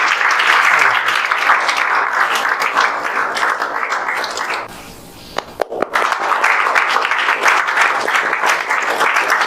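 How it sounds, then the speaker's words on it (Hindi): A crowd at a coaching-class gathering celebrating JEE Main 2024 results applauds loudly and steadily, the clapping briefly dropping off midway with a few scattered claps before surging back to full, sustained applause. "ताली बजाते रहिए भाई"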